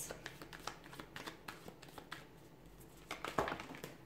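Tarot cards shuffled by hand, close up, with a run of rapid papery riffles and slaps that thicken into a dense burst near the end, and no talk.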